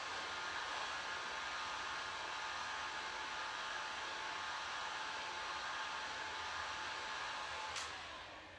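A heat gun blows a steady, loud, hissing roar at a glued carbon fiber roof panel on a 2016 Dodge Challenger or Charger, running unbroken before dropping away at the end.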